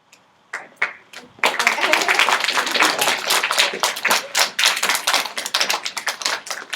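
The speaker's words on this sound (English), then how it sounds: "We were clapping for all the questions" Classroom of children clapping together, a burst of many hands applauding steadily and fairly close, with a few scattered claps before it builds to full rhythmic applause.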